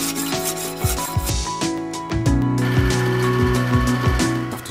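Hand sawing through a scrap bullnose gas cylinder nut of metal in a home machine shop, a steady rasping back-and-forth stroke rhythm with repeated tonal ringing, close and fairly loud, with no talking.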